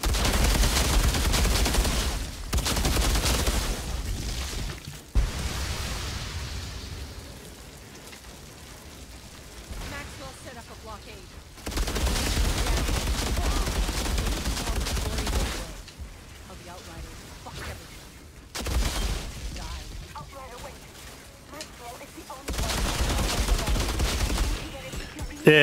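Outriders video game gunfire comes in long rattling bursts of rapid shots, loud and close, broken by quieter gaps where a voice talks.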